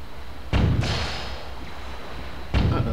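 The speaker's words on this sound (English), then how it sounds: "We're getting blown up by a bomb." Bomb blasts striking the player in the video game The Legend of Zelda: The Wind Waker, two short, dull thumping explosions about two seconds apart over a continuous game background.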